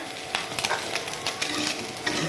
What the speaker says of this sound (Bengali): এই যে একটু ভাজা, সিম ভাজা